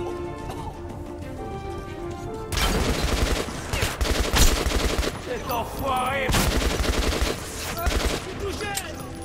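Gunfire in the video game Metro 2033 Redux: a dense burst of loud shots over continuous game music and ambience, with several sharp impacts clustered in the middle.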